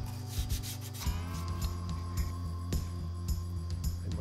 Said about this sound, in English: I take a piece of sandpaper and cut the edges so it's not sharp.